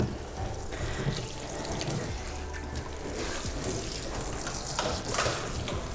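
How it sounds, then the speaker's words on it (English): Water runs steadily from a tap during a puppy's first bath, a soft, continuous splashing hiss at moderate distance, fairly quiet and unbroken, with no talk over it. "And then I'm going to show her the running water."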